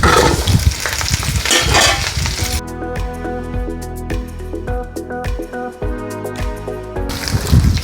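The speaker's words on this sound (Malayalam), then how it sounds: "ഒരു 2-3 മിനിറ്റ് ഇങ്ങനെ വഴറ്റി കൊടുക്കാം" Chicken pieces lifted from yakhni broth are sautéed into fried onions for biryani, giving a steady close sizzle with clinks and scrapes of stirring in a rhythmic pattern, louder bursts of sizzle at the start and end.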